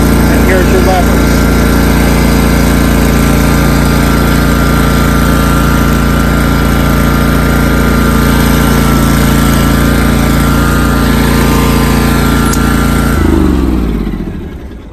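A walk-behind lawn core aerator's small engine runs steadily and loud at close range as the machine moves forward over turf for a fall lawn renovation, its tone holding even before cutting off near the end.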